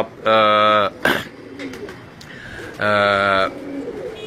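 Two loud, harmonic coos from high-flying Kabuli pigeons in Karachi, each about half a second, separated by a sharp click and quieter rustling in between.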